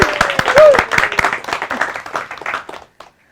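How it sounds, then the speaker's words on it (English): A live audience at a game design talk claps for the guest speaker, a burst of close, fairly loud applause with distinct individual claps that thins out and fades to silence near the end. "Let's do a round of applause for Tracy!"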